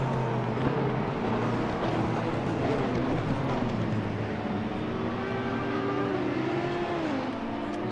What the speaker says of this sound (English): But Mohammed Irfan, he's locked in a battle with the 2 VGTR Porsches